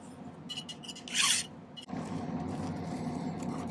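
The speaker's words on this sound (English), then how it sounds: "Tighten it down and just file it again." A metal hand file rasps against a small silver earring part at a silversmith's bench, with short strokes, then a louder scrape and a steady rough filing run up close.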